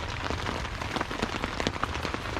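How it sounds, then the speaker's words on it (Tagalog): Light drizzle patters on a tent at a river ranch campsite, a soft, steady hiss of fine drops with scattered small taps, fairly quiet and with no voices. "Yung ambon lang. Parang namamasa. Siyempre yung tunog yan dito sa tent."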